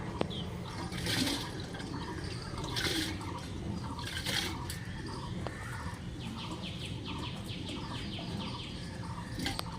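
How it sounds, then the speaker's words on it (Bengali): Washed rice pouring into a pot of water for rice papad, a steady splashing, gurgling stream close by, with birds chirping faintly in the background. "এবার ধুয়ে রাখা চালটা আমি হাড়ির জলের ভিতরে দিয়ে দেবো"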